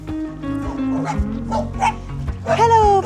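Puppies yip, whimper and bark in short bursts, close by and lively. A low steady hum sits underneath them.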